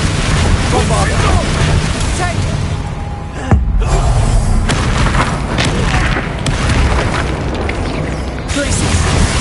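A Bombarda spell blast in Hogwarts Legacy, with a heavy booming explosion partway through amid continuous loud combat noise and rumbling effects.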